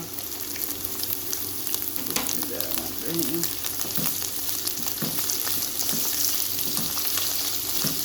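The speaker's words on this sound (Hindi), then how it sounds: "कीमे को हमें अच्छी तरह भून लेना है।" Minced meat (keema) fries in a pan for a dhaba-style okra dish, sizzling steadily up close while a utensil scrapes and stirs it now and then.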